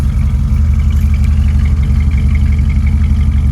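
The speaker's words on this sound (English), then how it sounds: "Nice throaty sound at a 390." A 1971 Ford F100 pickup's 390 V8 with dual exhaust and custom mufflers idles continuously up close, a deep low throaty exhaust drone with a slight pulsing texture and no talking.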